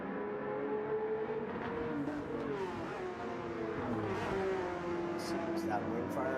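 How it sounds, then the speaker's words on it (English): Three Porsche GT race cars sweep through Paddock Hill Bend into turn 2 on a racetrack, engines revving with rising and falling pitch as they pass, under a race commentator's continuous talk. "And through Paddock Hill Bend and into turn 2, the 3 Porsches go."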